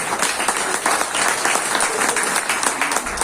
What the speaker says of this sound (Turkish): Haydi beyler çalın güzel bir alkış.